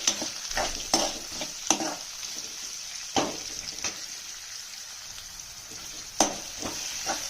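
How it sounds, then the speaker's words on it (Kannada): Onions frying in a pan over medium heat, with a steady sizzle and intermittent sharp scraping strokes as they are stirred, no talking. "ಈರುಳ್ಳಿ ಮೆತ್ತಗಾಗೋವರೆಗೂ ಫ್ರೈ ಮಾಡಬೇಕು. ಮೀಡಿಯಮ್ ಉರಿ ಇಟ್ಕೊಂಡು ಫ್ರೈ ಮಾಡಿರಿ."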